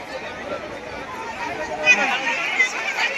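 Dense crowd chatter and hubbub at the Digha Makar Sankranti fair by the sea, a steady babble of many voices with a few louder calls rising above it.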